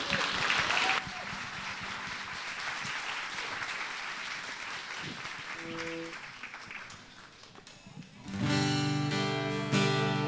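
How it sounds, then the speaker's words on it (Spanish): Applause from a church congregation on Good Friday, steady clapping for about eight seconds that eases off, then music swells in near the end. "Dale un fuerte aplauso al Señor."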